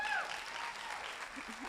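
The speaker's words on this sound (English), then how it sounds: "Another round of applause for our wonderful speakers." An audience applauds speakers at a public safety panel event, a dense, even burst of clapping that stays steady throughout, with a voice briefly speaking over it.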